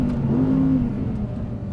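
An Audi R8 GT with a V10 engine drifting sideways on a race track, a steady rising engine drone with a strong tonal whine that climbs then levels off, heard from inside the car, with no talking.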